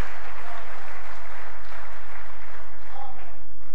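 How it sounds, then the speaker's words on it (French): A church congregation breaks into steady, sustained applause acclaiming the Lord during a sermon, a dense wash of clapping that fills the room at full volume without a pause. "On peut acclamer le Seigneur."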